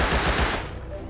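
Automatic AK rifle fire in the survival game Rust, a loud dense burst of rapid shots for about half a second that then drops to a quieter rattle and background noise.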